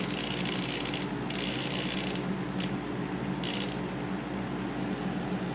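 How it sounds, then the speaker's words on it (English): A drill bores into a broken exhaust stud with an extractor bit on a Nissan 240SX KA24DE engine, giving a steady close grinding rasp with several brief louder bursts of high scraping. "As you can see, it's drilling down."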